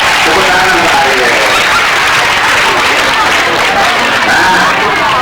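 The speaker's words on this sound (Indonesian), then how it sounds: "Tepuk tangan Pak Arya." Applause from an audience at a Saraswati day school gathering in Singaraja, a steady dense patter of clapping lasting several seconds, loud and continuous.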